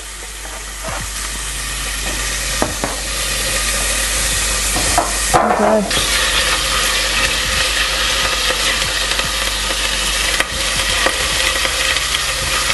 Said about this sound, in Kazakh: Еріген сары майымызға пияз бен чеснокты осылай майдалап турап алып қуырамыз.